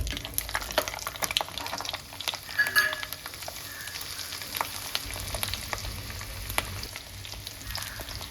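Small onions and garlic frying in oil for a bitter gourd tamarind curry, a steady crackling sizzle with scattered pops and spatters throughout, close up and with no talking.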